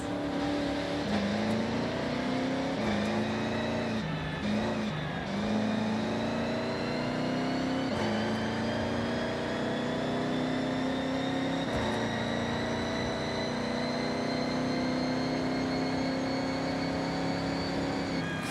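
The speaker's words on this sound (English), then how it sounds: "that whine definitely sounds to me like there's a turbo in here" Turbocharged car engine in a racing video game, a steady droning engine note with a high whine climbing slowly as it accelerates, with a brief dip and recovery partway through, continuous and alone.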